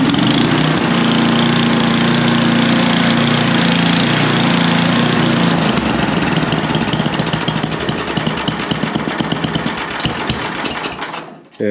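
A snowblower's small gasoline engine runs steadily and loudly close by, then is throttled up partway through to a harsher, faster, rattling roar before cutting off at the end.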